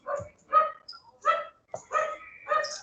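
A dog barks in a run of five or six sharp, loud, close barks spaced about half a second apart, with no talking over them.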